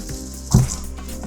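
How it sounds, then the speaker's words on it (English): Parsley leaves get a gentle rinse under a running tap in a kitchen sink, a steady close stream of water splashing with one brief louder gush partway through. "So just a gentle rinse of the parsley"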